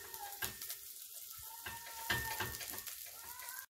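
Onions fry in a pan for an Indomie noodle dish, with a faint, close sizzle and a few soft stirring scrapes that stop abruptly at the end.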